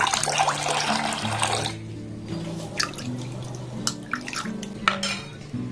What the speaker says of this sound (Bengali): আর একটু জল এখানে আমি দিয়ে দেবো